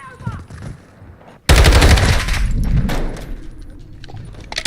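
Loud, sustained bursts of M4 rifle automatic fire in Call of Duty MWII break in after a quieter stretch of game sounds and continue rapidly, close and dense, for the rest of the moment.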